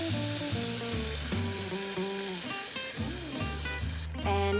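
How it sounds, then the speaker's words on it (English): Beef frying in a pan for Thai green curry crackles in a steady sizzle as it is stirred, with gentle scraping strokes and a brief hiss burst at the end, with no voices. "we're gonna stir until the beef is half cooked"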